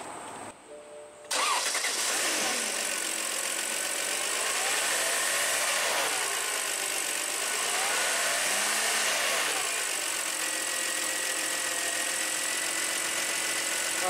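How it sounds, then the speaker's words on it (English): A BMW or Mini car engine cranks and catches, then settles into a steady, even idle that runs on without a break. "what I did right now was that I just started the engine"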